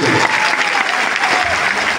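A large crowd at an outdoor political rally gives a big round of applause, loud, dense and continuous clapping that fills the whole moment without a break.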